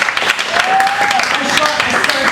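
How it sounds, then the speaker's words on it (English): A comedy club crowd at a Dog Days of Comedy show claps steadily for about two seconds, a dense near wash of applause with cheers and voices mixed in. "Give yourselves a round of applause for coming out."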